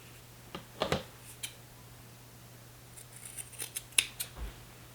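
Scissors snip through fabric while a crossbody bag is made, a few quiet crisp cuts in short bursts separated by pauses, close and faint against a low steady hum.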